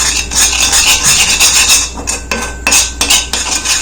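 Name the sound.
mixing homemade hair dye in a bowl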